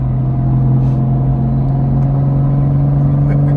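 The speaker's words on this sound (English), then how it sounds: "you can actually hear the exhaust in the car, the turbo and all that." A 2021 Toyota GR Supra 3.0 engine drones at a steady low pitch from inside the cabin, a constant rumbling hum of exhaust and turbo with no voices.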